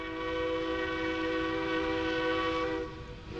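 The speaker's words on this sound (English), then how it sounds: "473, the train's coming in now" Train 473 arrives at a station with a long, steady, loud horn blast held for about three seconds before it cuts off, leaving a low rumble.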